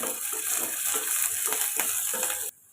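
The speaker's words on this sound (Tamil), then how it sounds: "இது கூட பொடியாக நறுக்கினா பூண்டு சேர்த்துட்டு இப்போ வதக்கி எடுத்துக்கோங்க." Finely chopped ginger and garlic sizzle and fry in a pan with soft stirring scrapes, a steady, moderately quiet crackle that stops suddenly at the end.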